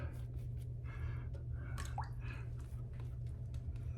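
Wet squishing and dripping of a shaving brush worked into soap with water during a straight razor shave, soft and close with short irregular strokes against a steady low hum.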